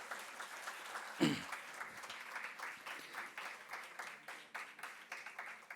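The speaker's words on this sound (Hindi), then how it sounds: "अब एक बार आप फिर से ताली बजा दीजिए" An audience at a Modi Mahotsav event applauds in a steady, moderate wash of clapping, with one sharp thump early on, heard from within the crowd.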